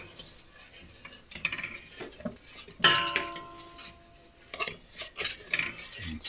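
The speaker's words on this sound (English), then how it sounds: "And I'm just stirring the sugar." A spoon stirs sugar in a pan while making eggless lemon curd, giving irregular metallic scrapes and clinks against the pan, close and moderately loud, with a ringing clink partway through.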